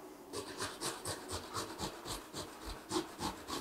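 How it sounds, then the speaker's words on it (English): Fresh peeled ginger is grated by hand in a quick, even rhythm of about a dozen rasping strokes, close and fairly quiet, with no voices. "I probably know why Nigella says use 30 grams of ginger instead of 100 like I'm doing. It's probably just because she got bored of grating it"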